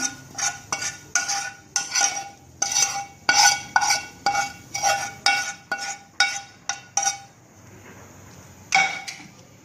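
A metal spoon stirs hot tempering into mashed potatoes for vada pav, scraping and clinking against the bowl in a steady run of about fifteen close, sharp strokes, with a brief quiet pause before one last stir; no one speaks.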